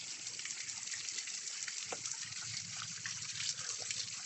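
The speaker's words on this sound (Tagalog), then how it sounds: "Waterfalls. Waterfalls." Water flowing over a man-made waterfall in a park creek: a continuous, even rushing gush at moderate distance, steady throughout with no pauses.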